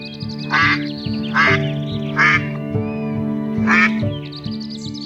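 Ducks in a forest quack four times at a steady pace, loud and close, over a continuous musical drone.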